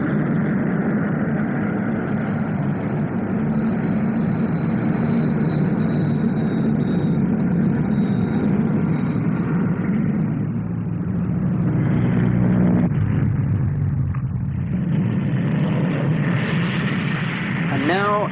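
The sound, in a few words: Vickers Vanguard airliner flying past at Farnborough air show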